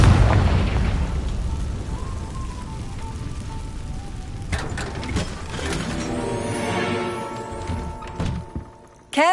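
Bombarda and Confringo spell blasts in the Hogwarts Legacy video game, a loud booming rumble followed by crackling debris and a sharp final burst, with no talking.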